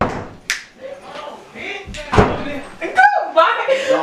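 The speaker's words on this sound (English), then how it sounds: "Don't slam the door." A door slams shut once with a sharp bang partway through, amid casual chatter and voices of several people talking around it.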